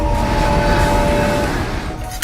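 A train rumbles steadily and loudly in a film teaser, its low dense roar with a faint tonal whine running through the whole moment without a break.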